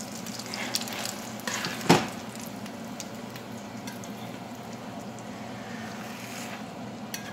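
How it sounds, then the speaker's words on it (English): A scrambled shrimp omelet with green chili and onions fries in oil, giving a steady close hiss with one brief sharp crackle early on. "in the same oil, you're gonna fry the omelet"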